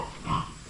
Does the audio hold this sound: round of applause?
no